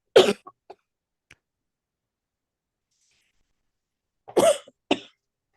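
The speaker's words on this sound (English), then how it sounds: "Everybody's coughing." Two separate bouts of coughing, a few seconds apart, each a harsh cough followed by a quick second one in a quiet room.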